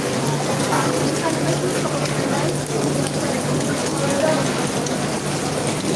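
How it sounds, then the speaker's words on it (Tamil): Rain falls steadily outdoors as an even, broadband wash of noise with no breaks, holding at the same loudness from start to finish. "மழை தான் பேஞ்சிட்டு இருக்கு."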